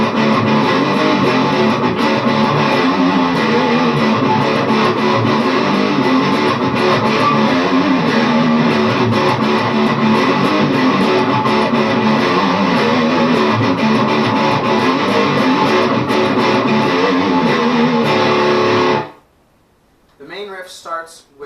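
Heavily distorted electric guitar plays the main riff of a song, dense power-chord hits and chugs, loud and sustained for most of the stretch before stopping abruptly into quiet.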